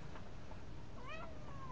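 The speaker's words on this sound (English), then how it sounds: "That cat will walk right up to me" A single short meow from a cat, a rising-then-falling cry heard fairly close against a steady hiss of background noise.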